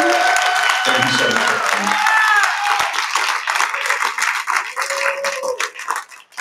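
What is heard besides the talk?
crowd applause at a realty rally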